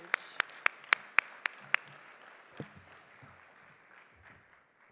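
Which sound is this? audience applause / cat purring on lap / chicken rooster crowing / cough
audience applause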